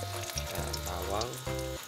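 Garlic hits hot cooking oil in a pan, giving a steady close sizzle and crackle that runs the whole time, with a low background hum underneath.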